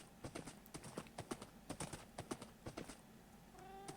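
Horse hooves clip-clopping in the Minecraft video game: a steady run of sharp, hollow clops at a brisk walking rhythm, fairly faint, with a few rising game tones near the end.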